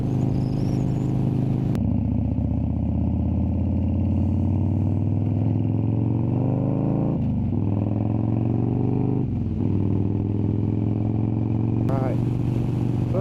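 A Harley-Davidson Dyna Wide Glide FXDWG rumbles while riding through town, a loud, close, steady low engine drone that shifts pitch as it changes gears and accelerates.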